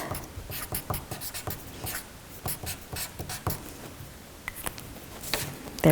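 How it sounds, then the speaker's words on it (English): A pen scratches across a sticky note in short, quick strokes with brief pauses between words, close and fairly quiet, with no talking. "write travel on a scrap sheet of paper or a sticky note"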